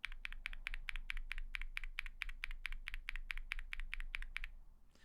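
Typing on lubed and filmed Durock POM linear keyboard switches: a brisk, even series of about two dozen soft, muted clacks at a steady rhythm, close and clear, stopping just before the end.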